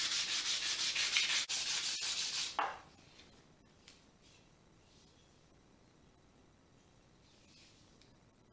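Sandpaper of 320 grit rubs briskly over barrel stave wood in loud, close back-and-forth strokes for about two and a half seconds, then stops, leaving near silence with a few faint handling knocks.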